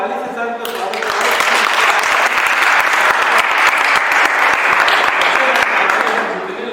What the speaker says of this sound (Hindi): जोरदार ताली से सर का स्वागत है